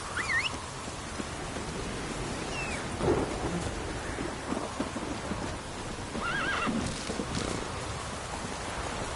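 Light drizzle in the video game The Witcher 3 with a soft steady hiss of rain, while a horse whinnies near the start and again later amid low rumbling and hoof movement.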